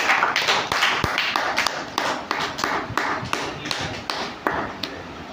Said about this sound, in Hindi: पहले इस बच्चे के लिए जोरदार ताली।